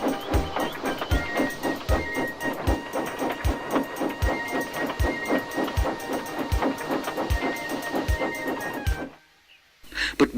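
A steam engine hauls an express passenger train, with a steady rhythmic clatter of wheels over rail joints and a constant hiss running throughout at close range, before cutting almost to silence near the end.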